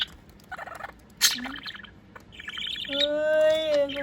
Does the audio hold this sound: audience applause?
no